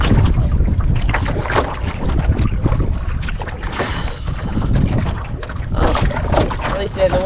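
Strong wind buffets the microphone while a canoe is paddled across open water in the wilderness, a loud continuous roar with water sounds, and a person speaks over it.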